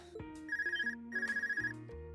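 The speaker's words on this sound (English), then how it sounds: "Another phone call." A phone rings in Trails of Cold Steel with two trilling bursts over soft background music, close and clear with no talking.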